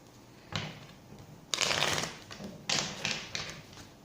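Tarot cards being shuffled close by, in several quick riffling bursts separated by brief pauses, fairly crisp and with no talking.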